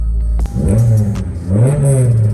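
A K-swapped Honda Civic EF engine revs hard twice, each rise climbing in pitch and then falling back to a throaty idle, loud and close with no talk over it.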